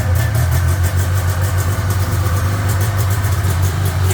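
A two-stroke snowmobile engine runs close by with a steady, buzzy idle and a raspy pulsing rhythm, loud and continuous with no talking.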